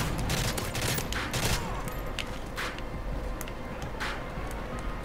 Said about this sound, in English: Oh, it's a freaking M16. Semi-automatic.